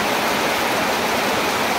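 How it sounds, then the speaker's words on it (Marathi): Heavy rain pours down in a rural farm setting, a loud, dense, unbroken wash of falling water with no distinct drops or pauses. "जोरात पाऊस आलाय."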